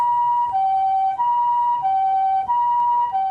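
An ambulance siren in the Kibera slum wails in a steady two-tone hi-lo pattern, loud and close, alternating pitches about every 0.6 seconds with no talk over it.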